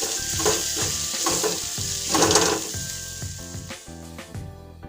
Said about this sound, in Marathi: लाल तिखट, गरम मसाला आणि हळद टाकून परतून घ्या